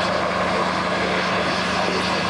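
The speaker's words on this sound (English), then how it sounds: "agricultural engine, this one. It's a William Foster," A restored William Foster agricultural steam engine built in Lincoln, working at a country steam rally, gives a loud, steady mechanical drone with a constant low hum, close by and without pause or voices.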